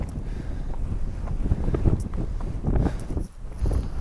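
Strong wind rips across frosty mountains on the Arizona Trail, a loud, gusty roar buffeting close against the microphone with rumbling surges and a brief lull.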